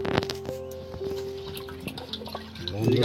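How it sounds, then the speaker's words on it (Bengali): Potatoes being washed by hand in water in a rural kitchen: light splashing and dripping close by, steady and soft, with a brief louder slosh near the end. "আলু ধোয়া হচ্ছে, এই আলুটা ভালো করে ধুয়ে নিচ্ছি"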